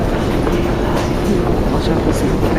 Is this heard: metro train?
yes